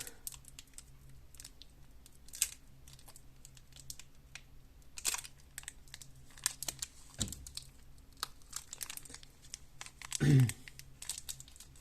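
Crinkly foil rustling and tearing as Harry Potter Adventures at Hogwarts trading card booster packs are opened, soft and close, with scattered crackles and one louder rip near the end.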